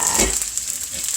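Pork sizzles loudly in a single pan while being stir-fried with soy sauce, a close, crackling hiss with brief stirring scrapes.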